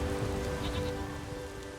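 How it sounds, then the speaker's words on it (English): Steady rain falls in The Witcher 3 video game, a continuous even hiss of rainfall that carries on alone without any talk throughout. "There's no point standing here in the rain."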